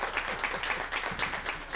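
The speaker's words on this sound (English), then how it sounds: "Can we give Angela a round of applause?" Audience applause welcoming a woman named Angela to the front at a gathering: steady, fairly quiet clapping from many hands that continues throughout with no talk.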